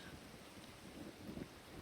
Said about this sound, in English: Oh, we got a thunderstorm on the server.